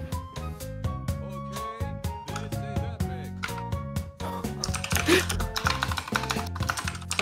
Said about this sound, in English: Think he has the mechanical keyboard?